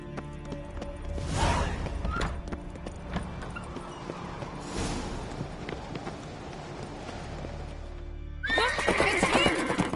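Horse whinnying in The Witcher 3 on PS5, a loud neigh near the start and another burst at the end, with hooves and running movement in between against game ambience.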